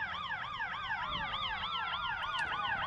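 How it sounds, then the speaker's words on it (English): Engine 404 of Sweetwater County Fire District No. 1 drives in a Wyoming parade with its siren on, a steady wailing rise and fall that continues throughout at moderate distance. "With the lights on, sirens going, making lots of noise."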